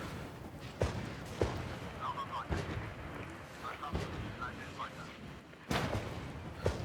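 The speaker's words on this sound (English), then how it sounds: "they have a lot of artillery coming at us" Artillery shells boom in a tank battle in the war game Regiments, several heavy thuds spaced irregularly at mid distance while someone talks over them.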